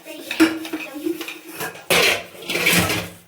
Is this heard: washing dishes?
yes